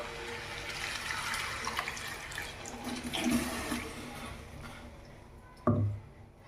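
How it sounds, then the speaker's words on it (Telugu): Water pours steadily into a pot of spicy country chicken curry, a close, even rushing splash that holds for several seconds before easing off, ending with a single sharper knock or clatter. "వాటర్ పోసుకుందాం."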